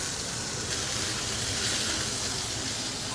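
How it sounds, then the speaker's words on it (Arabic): Mozzarella sticks frying in hot oil give off a steady, dense sizzle and crackle that holds at an even level throughout, close up with no talking. "سخن الزيت بنزل موتزاريلا ستيكس"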